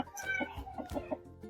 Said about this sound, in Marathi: हीच ती कोंबडी.